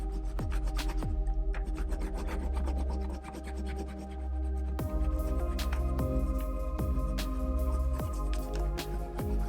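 Wax crayon rubbed over a leaf on paper, a loud steady rasping scrape with regular strokes and a rhythmic tapping pulse underneath, close and continuous.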